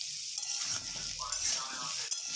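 Potato pieces fry in oil with salt and turmeric in a Bengali home kitchen, a soft steady sizzle broken by light stirring scrapes and a brief clink of a utensil.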